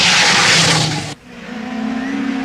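A Vauxhall Chevette rally car is driven hard across a stage at the 1977 Lombard RAC Rally, its engine roaring loudly before cutting off abruptly, then a lower engine drone building again.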